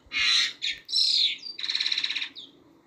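A pair of Hongkong mynas, recently through their molt, give loud squawks and harsh calls close by, a few bursts followed by a rapid rattling series that fades at the end.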